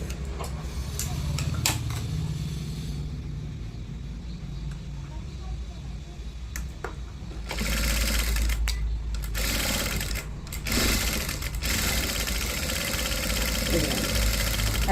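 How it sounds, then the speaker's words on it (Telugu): A sewing machine stitches a cross strip onto a blouse, running in bursts of steady rapid whirring close by, with pauses, clicks and someone talking between runs. "క్రాస్ పట్టి మీద కుట్టు వేసేసుకోవాలి."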